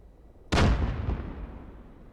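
A 100mm high-explosive round fired from a BMP-3 infantry fighting vehicle in the DCS World combat simulator: one sharp, loud cannon blast with a heavy boom that rolls off into a long decaying rumble.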